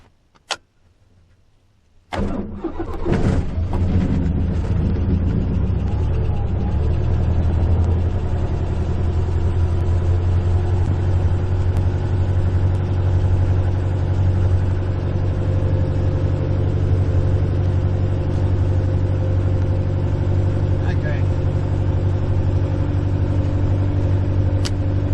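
A Jabiru J120 light aircraft engine cranks and catches after a brief quiet moment with a single click, then settles into a loud, steady, rumbling idle close by that runs unbroken for over twenty seconds.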